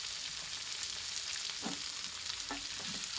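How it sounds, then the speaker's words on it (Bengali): Onion rings fry in a pan for chicken soup, making a continuous soft hiss and sizzle with occasional stirring scrapes, quiet and close with no voices. "এগুলোকে ভালো করে ভেজে নেব।"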